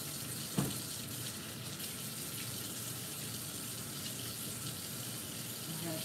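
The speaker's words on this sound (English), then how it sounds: "let me wash my hands real quick" Kitchen tap running while someone washes hands: a steady, close hiss of flowing water splashing into a sink throughout, with a brief knock near the start.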